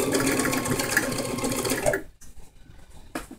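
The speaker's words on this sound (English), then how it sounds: "Go as slow as you need to go so you can know that you're going back over your stitches." A sewing machine slowly backstitching a ruffle maxi skirt, a close, steady whirring hum for about two seconds, then it stops, leaving quiet handling noises.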